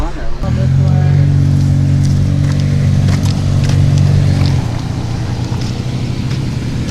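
A lifted Honda Civic under rebuild at an off-highway vehicle park, its engine droning steadily as it is put in gear and pulls away, the tone shifting partway through, with voices nearby.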